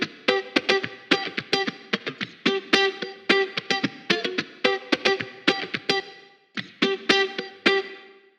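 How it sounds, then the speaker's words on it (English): A funky Fender Telecaster electric guitar plays tight, rhythmic muted chord stabs with added reverb for a nu disco track, a clean repeating groove of short choppy strums with a brief pause near the end. "This guitar was recorded with a Fender Telecaster we have, and we added some reverb on it"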